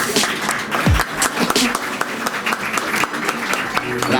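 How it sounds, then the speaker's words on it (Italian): An audience applauding at a calendar presentation event in a café, dense close clapping throughout the clip with a voice briefly heard over it. "Bravi, applaudite che non costa nulla"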